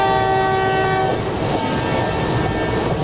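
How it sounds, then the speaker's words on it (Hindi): A loud, sustained multi-tone train horn from a Vande Bharat Express in Train Simulator sounds for about a second, then gives way to steady rumbling track noise and rolling wagon sounds with no talk. "जैसा कि आप सुन सकते हो क्या शानदार हॉर्न है यार"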